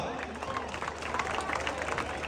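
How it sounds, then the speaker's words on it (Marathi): A Dahi Handi festival crowd in Mumbai claps in a dense, continuous patter of applause with cheering mixed in, while someone speaks over a microphone on top. "त्याच्यामुळे इथे सर्व तुमच्या स्वतःसाठी टाळ्या वाजवा"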